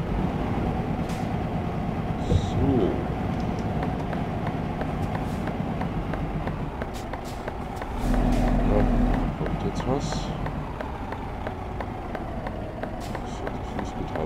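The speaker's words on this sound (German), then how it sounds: "wir starten direkt mit unserem Auftrag und fahren mit dem wunderschönen DAF hier" A DAF truck drives in Euro Truck Simulator 2, its steady engine drone running continuously with a brief louder surge partway through, while someone talks over it.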